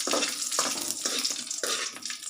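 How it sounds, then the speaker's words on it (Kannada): Green chillies dropped into hot oil for a spinach gravy crackle and sputter in close, repeated bursts roughly every half second over a soft background sizzle, with no one speaking. "ಇವಾಗ ಅದೇ ಹಸಿ ಮೆಣಸಿನ್ಕಾಯಿ ಹಾಕ್ತಾ ಇದ್ದೀನಿ ನೋಡಿ ಚಟಪಟ ಸೌಂಡ್ ಕೂಡ ಬರ್ತಾ ಇದೆ"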